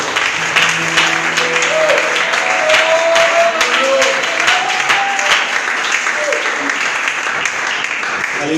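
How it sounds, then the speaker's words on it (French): A church congregation at a Sunday service applauds and cheers loudly and steadily for the Lord, a dense wall of clapping with shouts and sung or called-out voices rising above it throughout. "Est-ce qu'on peut acclamer le Seigneur avec nous?"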